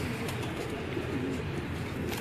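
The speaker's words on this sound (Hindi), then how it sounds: "ये छत वाले कबूतर हैं दोस्तों" Rooftop pigeons on a roof in Sialkot coo softly in low, rolling calls beneath a constant background hiss, with faint voices in the distance.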